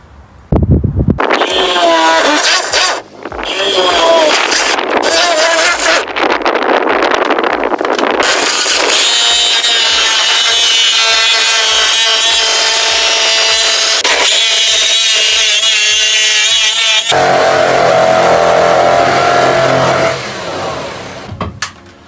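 A jigsaw cuts wood for a bunk window, a loud, close, continuous buzzing rasp with a few brief pauses and shifts in pitch as the blade works through the cut.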